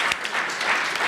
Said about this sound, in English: Round of applause right there, you guys.